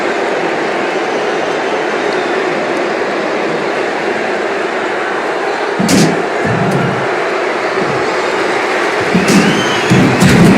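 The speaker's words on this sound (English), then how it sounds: "Cena is firing up the crowd here." A dense arena crowd roars steadily in the WWE 2K25 wrestling video game, with a loud continuous wash of noise that swells a little near the end.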